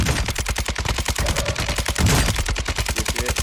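Rapid automatic gunfire in a team-based shooter video game, loud and sustained bursts of closely spaced shots rattling on without a break, with a heavier blast near the middle.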